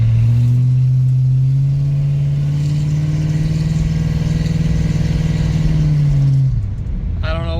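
A car engine fitted with a swapped-in double pumper carburetor runs steadily nearby with a loud, even drone at a constant speed, then drops off near the end with a brief clatter.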